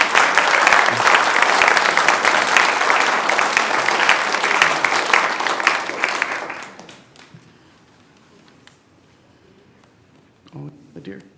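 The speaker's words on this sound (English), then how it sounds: "Give yourselves a round of applause." Sustained applause from a church congregation at a 25th anniversary celebration, a dense roar of clapping that fades out after about seven seconds, followed by near quiet and a brief spoken murmur at the end.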